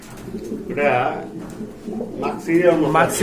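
Pigeons kept for sale coo in low, throaty bursts close by, their soft rolling calls overlapping with someone speaking nearby.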